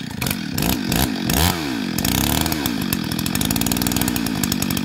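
A Stihl 034 AV chainsaw, cutting gum wood, runs loud and close at an uneven low idle, its engine note sagging and surging in wavering pulses before settling into a rough, rapid putter.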